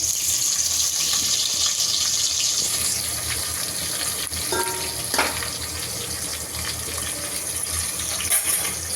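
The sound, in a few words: onions and bay leaf frying in hot oil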